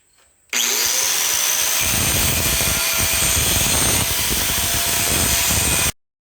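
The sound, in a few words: angle grinder with grinding wheel grinding a motor mount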